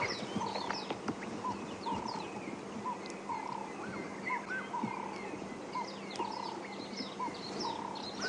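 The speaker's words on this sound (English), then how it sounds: "Another one chirping away, whistling away, but I can't see exactly where it is." A bird calls with repeated chirps and short whistles at a game reserve during a morning safari drive, faint and set against a busy background of other wildlife sounds, with no talking.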